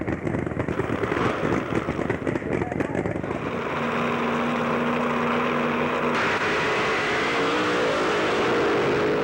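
A Nova fuel funny car roars down the strip on a solo drag racing pass at Island Dragway in 1970, a loud sustained engine howl whose pitch shifts as it runs, with an announcer's voice over it.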